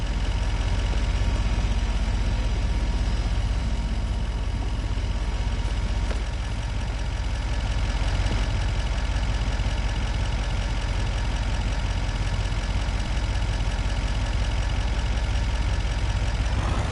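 A modern tractor in Farming Simulator 25 idles steadily, a continuous low engine rumble held at a constant level throughout with no talk over it.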